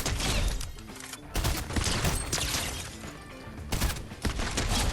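Rapid bursts of gunfire in the video game Fortnite, dense overlapping shots in several loud volleys separated by brief gaps, with heavy impacts and no talk.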